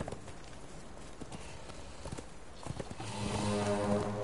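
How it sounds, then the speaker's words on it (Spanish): Horse hooves clip-clop in Conan Exiles, a quick run of hoofbeats over game ambience, joined near the end by a louder sustained tone. "tenemos un caballo muy fuerte"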